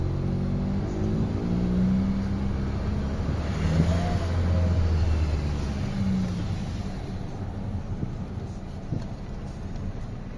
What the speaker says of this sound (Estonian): Auto sõidab.